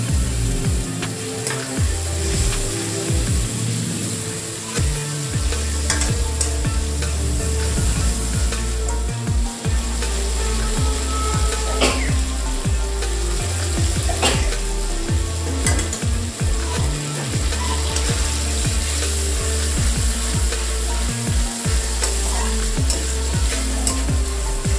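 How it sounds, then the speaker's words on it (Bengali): Spice paste for stuffed teasel gourd frying in oil as it is stirred, giving a loud, steady sizzle with intermittent scraping strokes of the spoon throughout and no talking. "দেখুন মশলাটা কষানো হয়ে গেছে, তেল বেরিয়ে গেছে মশলার থেকে"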